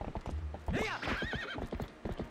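A horse in The Legend of Zelda: Twilight Princess clip-clops at a gallop with a loud whinny over the rapid hoofbeats, while someone talks over the game sounds.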